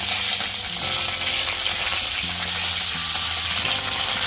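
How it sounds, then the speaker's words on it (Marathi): Mustard seeds and dried red chillies, broken in half, crackle and sizzle steadily in hot oil for a Kerala-style red chutney tempering, a close, continuous frying hiss with faint low hum underneath. "इथे तेल थोडं गरम झालं की मोहरी घालूयात एक चमचा मोहरी घातली"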